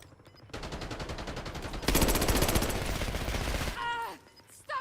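Gunfire aimed at the player in a video game, loud rapid automatic bursts in a steady rhythm that swell and then cut off, followed by a short electronic sweep.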